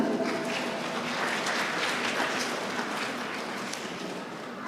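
A crowd at a Teachers' Day ceremony applauds steadily, a dense even clapping that holds for several seconds without voices.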